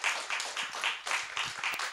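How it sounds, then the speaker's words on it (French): Applause from a small audience at a bookshop talk, a quiet, steady patter of clapping hands at moderate distance lasting the whole moment with no voices over it. "Alors, on applaudit."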